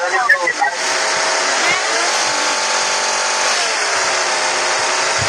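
A car engine in the PUBG video game drones loudly and steadily while driving, a sustained revving hum with a brief voice at the start.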